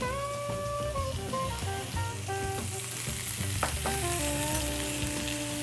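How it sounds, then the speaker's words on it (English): Garlic sautéing with thyme, dry white wine and Worcestershire sauce in a pan, giving a steady, close sizzle and fry throughout, with occasional stirring clinks and faint background music. "Add the garlic and sauté just 30 seconds."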